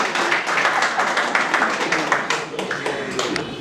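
An audience claps steadily to welcome poet Swati Swarnkar at a poetry recital, a dense patter of applause that holds for several seconds and fades slightly near the end.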